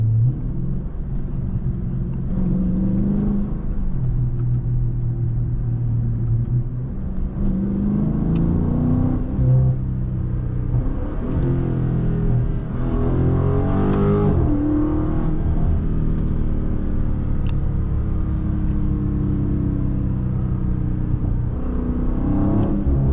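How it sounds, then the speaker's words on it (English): A crashed Dodge Charger Scat Pack Last Call with a lowered engine note rumbles steadily from inside the car while driving, with swelling revs and throttle surges over a constant low drone. "Hey, this bitch burbling today."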